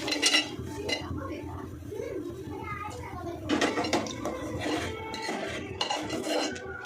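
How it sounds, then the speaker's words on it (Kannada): Dry fruits go into a pot of moong dal payasa, a sweet, with a metal spoon clinking and scraping against the pot in short, irregular bursts, close by, while a person talks over it. "ಡ್ರೈ ಫ್ರೂಟ್ಸ್ ಆವಾಗಲೇ ಎತ್ತಿಟ್ಕೊಂಡಿದ್ನಲ್ವ ಅದನ್ನೆಲ್ಲ ಹಾಕೊಳ್ತಾ ಇದ್ದೀನಿ"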